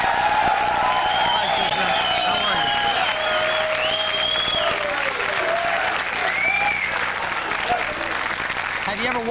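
A TV game show studio audience applauds and cheers steadily as a contestant walks out, the crowd noise staying loud and continuous while a host greets her over it.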